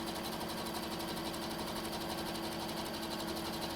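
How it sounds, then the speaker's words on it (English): A sewing machine stitches steadily across the closed seam of a three-layer cloth face mask, a loud, fast, even mechanical chatter that runs without pause and without speech. "With the seam, I'm pushing the closed seam and running over it."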